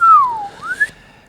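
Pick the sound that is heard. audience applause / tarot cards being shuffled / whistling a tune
whistling a tune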